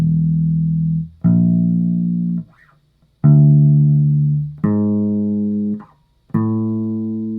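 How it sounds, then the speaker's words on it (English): Bass guitar sounding a tritone interval: two notes alternating across six half steps, each plucked note ringing out before the next, close and solo with no voices. "Now the next interval we have is called the tritone"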